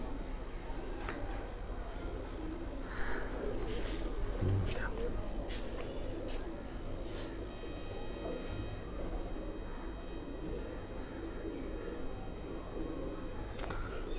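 Pigeons on a rooftop loft in Pakistan, kept by pigeon fanciers, coo softly amid a faint steady hum, with scattered bird calls and quiet background voices.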